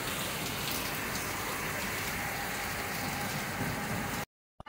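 Heavy rain pours steadily in a dense, continuous roar, loud and close, then cuts off abruptly near the end.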